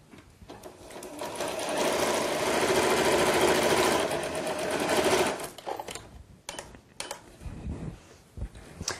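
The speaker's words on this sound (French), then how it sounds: "on coud ensuite le long des épingles à la machine à coudre" Machine sewing along pinned lengthwise seam of a folded fabric tube for a pillowcase, a steady close whirring run for about five seconds, then stopping into short uneven bursts and handling clatter.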